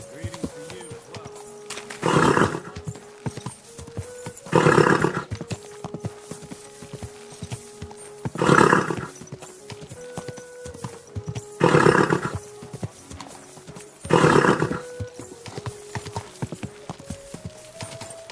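Clopping hoofbeats run beneath several loud, drawn-out horse neighs spaced a few seconds apart, with a synthetic, game-like quality throughout, from Kingdom Come: Deliverance 2.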